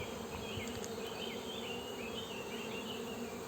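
Buckfast honey bees buzz steadily around an opened hive, a dense continuous hum of many insects close by, with no talking.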